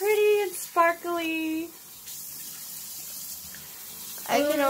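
A tap runs while a clay face mask is rinsed off, a steady wash of water under voices that talk at the start and again at the end.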